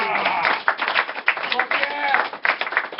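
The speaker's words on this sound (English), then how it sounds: "Let's have a round of applause for Mary Novohoski, ladies and gentlemen." An open-mic comedy crowd claps and applauds for a comedian, a dense patter of hands mixed with voices talking over it throughout.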